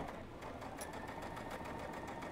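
A sewing machine runs steadily, stitching the fabric of a plush horse toy with polyester thread, a close, even mechanical whir with a rapid rhythmic needle beat and no talk.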